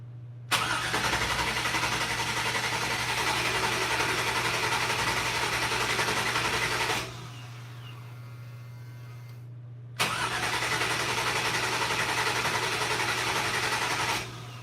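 A Toyota FJ40 engine cranks in two long, steady whirring bursts separated by a short pause, with a constant low hum beneath, moderately quiet, with no clear catch into running and no talk.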